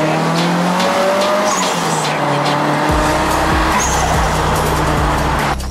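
Turbocharged Nissan Silvia S15 engine roaring loud and close, with a steady drone that shifts into a pulsing, rapid-fire rhythm midway, accompanied by tire squeal.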